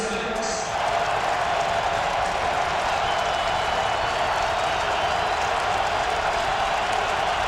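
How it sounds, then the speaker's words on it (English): Football stadium crowd at a 2007 Tennessee vs. Arkansas college game, a broad, steady roar of many voices building and holding, with a commentator's voice briefly heard at the start. "Listen to the crowd get in it."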